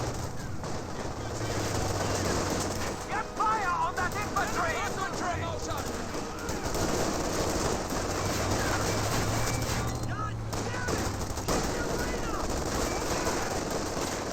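A World War II strategy video game produces rattling machine-gun bursts and scattered gunfire over a dense, constant battle din, while a commentator talks throughout.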